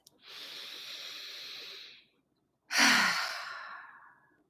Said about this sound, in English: pause and take a breath